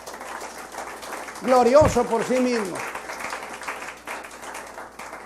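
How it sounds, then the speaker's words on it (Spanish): A church congregation applauding during a Spanish-language sermon, a scattered, fairly faint patter of clapping continuing beneath the preacher's loud, sung-out speech. "Dé un aplauso al Señor."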